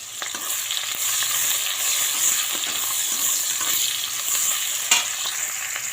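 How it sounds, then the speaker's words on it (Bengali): Chopped onions fry in hot oil with whole cumin and bay leaf, making a loud, steady sizzle with light stirring clicks throughout. "এখানে গোটা জিরে, তেজপাতা ফোড়ন দিয়ে দিলাম। আর আমি এখানে দিয়ে দেব কিছুটা পেঁয়াজ কুচি"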